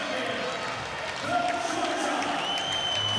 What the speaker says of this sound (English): They're still up and cheering. Standing ovation for two warriors.